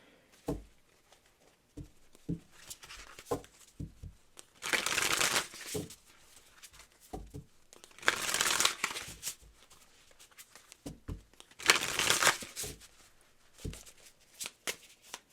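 A deck of angel cards is shuffled up close in three loud riffling bursts, each a few seconds long, separated by quieter soft handling taps and card slides.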